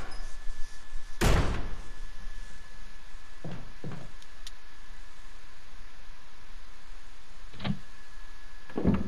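A door in a zombie video game bangs open with one sharp, loud burst, followed by a few softer thuds and knocks over a steady background hiss.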